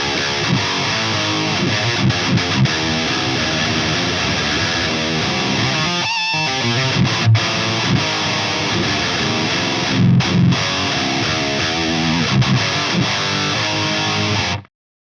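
Heavily distorted metal guitar riffing played through a Jensen Nighthawk 8-ohm speaker, loud and dense with chugging palm-muted rhythms and brief gaps, ringing out and cutting off at the end.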